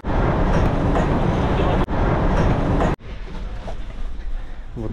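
A train on the railway, a loud steady rumble with a sharp clack and a sudden drop to a quieter, rougher hum partway through, close by, with faint voices mixed in.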